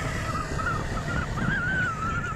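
Birds call over a dike in the afternoon, a wavering, honking cry standing out clearly above a steady rush of wind and outdoor background.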